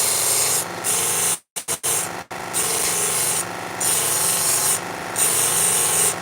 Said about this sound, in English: Get a wire brush in that little imperfection there.